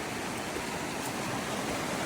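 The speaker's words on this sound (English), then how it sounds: "about to cross this creek over here" Creek water on the Pacific Crest Trail rushes steadily at dawn, a continuous broadband wash of flowing water with no breaks and no voices.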